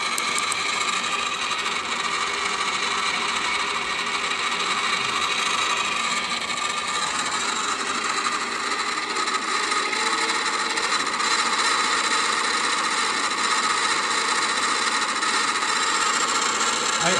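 A 3D-printed serpentine-coil generator driven by a steam rotary engine runs steadily, giving a continuous, even whirring and hissing drone with no pauses and no speech.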